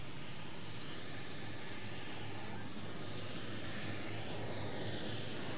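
Aircraft engines, likely helicopters, run steadily at takeoff for a hostage-release mission in Colombia, giving a loud, continuous broadband roar with a low hum throughout.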